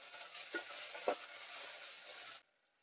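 Chopped tomatoes sizzling and frying in a pan with a couple of stirring scrapes, steady and close, then the sizzle cuts off abruptly near the end.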